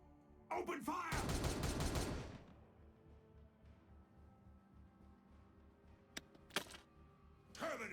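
A volley of gunfire rattles out in the Warhammer 40K Regicide video game, a dense burst of shots lasting about a second, then fainter sporadic cracks and a final short burst, with a voice talking over the game sounds.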